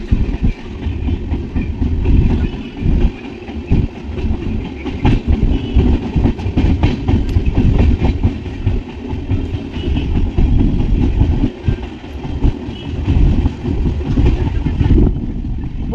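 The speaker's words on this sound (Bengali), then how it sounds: "এই যে ট্রেনটা ছেড়ে দিল" A train pulls out of a station, its loud, continuous rumble and rhythmic clatter of wheels on rails rolling close by without pause, then easing slightly near the end.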